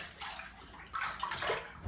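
Cold water pours and splashes into a tub where jeans are soaking, a steady close rushing with some gurgling.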